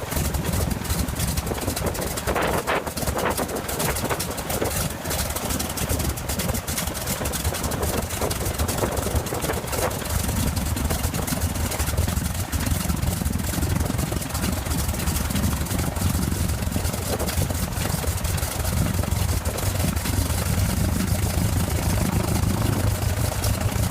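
A vintage aircraft engine runs steadily and loudly for the whole stretch, a dense continuous drone with rough low-end vibration that never lets up.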